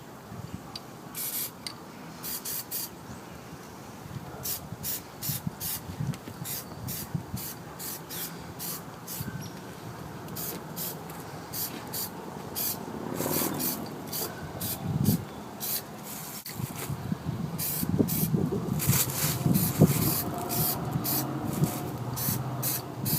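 Aerosol can of Plasti Dip rubber coating sprayed onto small parts in bursts of steady hiss, a heavier second coat applied from different angles, fairly close and alone with no talk.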